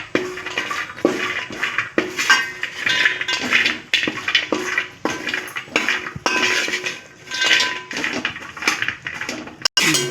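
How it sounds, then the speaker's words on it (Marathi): Almonds and cashews fry in ghee in a home kitchen pan, with a steady sizzle and repeated spoon scrapes and metallic clinks against the pan throughout. "आता हे तूप आहे त्याच्यात बदामला काजू टाकल्या हे चांगलं खरपूस तळून घेत आहे मी"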